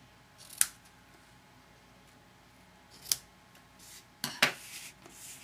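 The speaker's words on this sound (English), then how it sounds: "Just going to adjust my ribbon a little bit more. And trim it." Scissors trimming ribbon for a handmade greeting card, giving about three short, crisp snips spaced apart, the last a quick double cut, close and clear against a quiet room.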